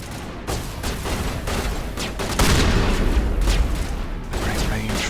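Shotgun blasts in the sci-fi shooter game Mass Effect, a run of loud close booming shots with broadband bursts amid steady combat noise.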